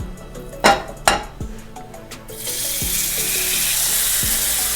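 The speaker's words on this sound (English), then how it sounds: "Hear that sizzling, that sear?" A seasoned peppercorn steak hits a hot skillet after a few sharp clinks, then a steady, bright sizzle of searing meat takes over and continues close and loud.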